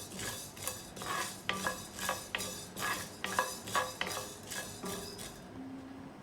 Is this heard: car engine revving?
no